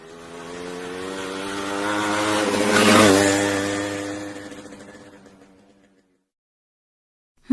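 A motorcycle approaches, roars past close by with a rising then falling engine whine, and fades away into silence.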